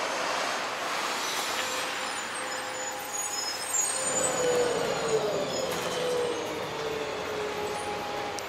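A city bus arriving at a stop on a hot day: a broad, steady traffic rumble that grows louder and closer around the middle, then carries on as a continuous roadside drone with no talking.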